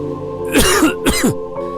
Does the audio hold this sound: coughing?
yes